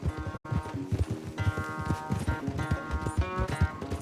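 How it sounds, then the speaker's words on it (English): Horse hooves pound in a steady galloping clip-clop during a race back to camp in Red Dead Redemption II, loud and close with a brief dropout near the start. "O cavalo do Dutch fala que é rápido, mas o meu é"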